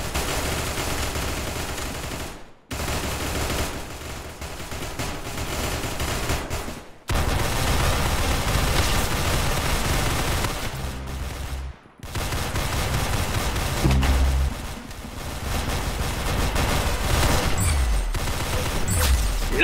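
Rapid gunfire from the Roblox shooter Arsenal, loud dense bursts of shots nearly filling the stretch, broken by a few brief silent gaps, with no talk.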